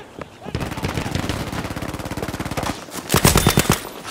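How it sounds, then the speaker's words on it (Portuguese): Rapid automatic gunfire in the video game Battlefield V's Pacific Storm map, a Sten submachine gun among the weapons, sustained bursts for about two seconds, then a louder cluster of shots and impacts near the end. "estavam dois atirando em mim, mano"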